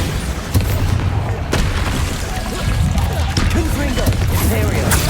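Bombarda spell explosions in Hogwarts Legacy, sharp booming impacts near the start and middle over dense, rumbling combat noise, with a few crashes and scattered cracks through the rest.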